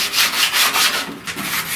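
Hand sanding of body filler on an inner door panel with 80 grit paper, a loud close rasping scrub in quick repeated strokes, each pass rising and falling in a steady rhythm.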